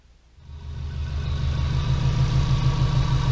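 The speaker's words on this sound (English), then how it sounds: "The idle's a lot better than it was." A Subaru Impreza engine idles steadily with a low, even rumble that rises in the first half-second and then holds, close and alone without talk.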